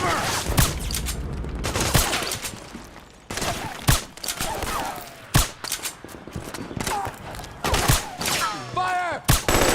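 Bursts of suppressing gunfire in Metal Gear Solid 4 crack out in rapid repeated volleys, loud and close, with shouted voices among the shots.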